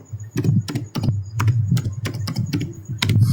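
Rapid keystrokes on a computer keyboard entering a Cisco router encapsulation command, close and crisp, in irregular bursts of clicks with short pauses and no talking.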